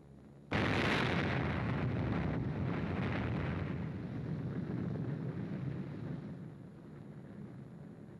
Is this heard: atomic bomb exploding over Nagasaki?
yes